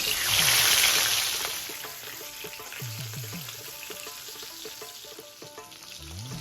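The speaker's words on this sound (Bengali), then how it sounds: "এরপর এক এক করে মাছের পিসগুলো ভেজে নেব।" Soft, steady sizzling of fish pieces frying in oil, with occasional clinks and light kitchen sounds nearby.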